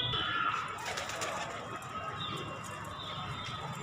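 Many wild pigeons perched on a rooftop give faint, soft cooing that sits under a steady wash of outdoor noise, with a few sharper sounds now and then.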